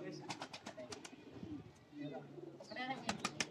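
A golden pigeon, a female, coos in repeated soft low calls close by, mixed with other bird chirps and rustling, while someone talks over it.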